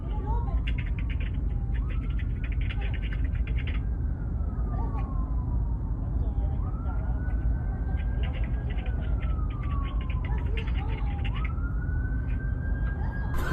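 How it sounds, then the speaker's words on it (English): Police sirens wail from body camera footage being played back, repeated rising and falling sweeps over a loud rumbling background, steady throughout. "Cool, I can hear the sirens."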